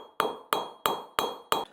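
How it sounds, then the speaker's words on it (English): A hammer strikes a sheet of silver in five sharp, evenly spaced metallic blows about a third of a second apart, each ringing briefly before fading, close and alone. "Now you can see that I'm raising my hammer a lot more, but I'm just letting the hammer drop down."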